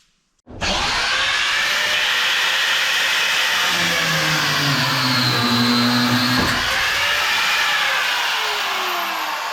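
A power tool starts abruptly and runs at a loud, continuous high whine as it cuts off a huck bolt on a truck, its pitch shifting slightly under load for about nine seconds.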